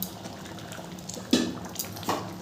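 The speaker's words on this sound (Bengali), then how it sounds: "এরপরে আমি ঢাকনাটা তুলে নেব" A cooking pot holding ghugni, a Bengali dried pea curry, simmering on a medium gas flame. Its lid comes off with one clear metallic clank and then a lighter clink, close and over a faint bubbling background.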